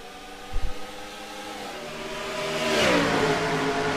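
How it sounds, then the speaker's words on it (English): Race cars in a racing video game at Atlanta, engines whining and climbing in pitch as they accelerate, a brief thump early on, the pack's drone swelling louder toward the end. "the green flag has just been waved, and we are racing here at Atlanta"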